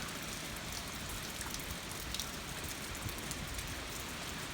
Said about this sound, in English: the wind's blowing pretty hard, blowing the rain in